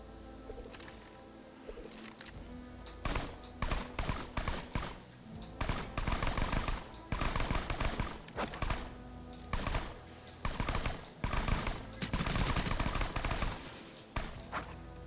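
A shock pistol fires in Borderlands 2 while playing Zer0 at Pyro Pete's Bar, with loud, close volleys of rapid shots in repeated bursts separated by brief pauses.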